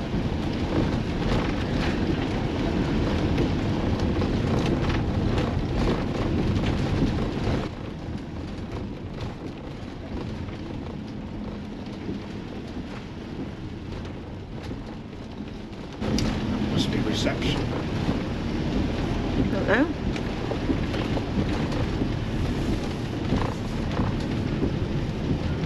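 Steady rain with rumbling thunder and gusting wind buffeting the microphone at the Chatsworth campsite, a continuous wash of noise that dips for several seconds midway and then returns just as strong.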